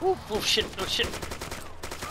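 Gunfire in Arma 2 crackles in quick bursts of rapid shots, loud and close, while a voice exclaims over the shooting.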